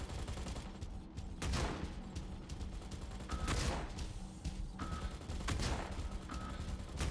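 A 7 mm plasma weapon on a mech in Mech Arena fires in short bursts of crackling, rapid shots, several loud pulses repeating over a dense game background.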